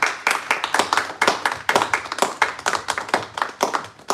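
Conference audience clapping steadily at close range, a dense patter of hands sustained through the whole stretch with uneven bursts and no voices.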